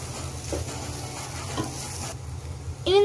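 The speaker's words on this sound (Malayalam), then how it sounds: "രണ്ട് സ്പൂൺ മല്ലിപ്പൊടി എന്നിവ ചേർത്ത് പച്ചമണം മാറുന്ന വരെ നന്നായി ഇളക്കി കൊടുക്കാം" Beef fries with coriander powder in a frying pan for a Kerala-style beef varattiyathu, a continuous close sizzle with a few stirring scrapes and a sharp metallic clink at the end.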